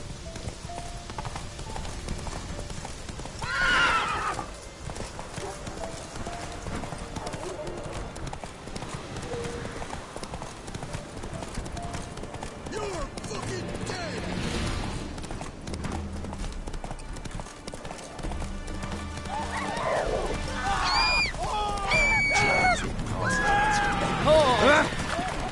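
Hooves of a horse galloping in The Witcher 3 video game, a steady clip-clop running throughout with a brief whinny, over game music and ambient sound.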